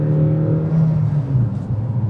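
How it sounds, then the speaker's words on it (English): The engine of a 2024 Tata Harrier facelift revs as heard from inside the cabin, a loud, steady droning hum with strong low tones that swells slightly and wavers, with no talking. "you can hear a lot of engine noise inside the cabin"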